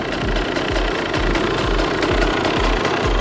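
A new Husqvarna motorcycle engine runs loud and close at a steady idle, a low rhythmic thumping pulse with a mechanical clatter on top, and no voices over it.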